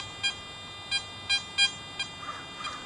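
A Garrett AT Max metal detector with a 9x12 concentric coil gives short, high electronic beeps as a silver ring passes it in an air test, about six evenly spaced chirps over a faint steady hum.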